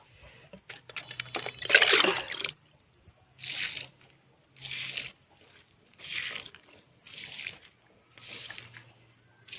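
Water is poured onto a dead malunggay plant in a large garden plot, heard as a loud splashing pour followed by a series of shorter, evenly spaced splashes with brief pauses between them.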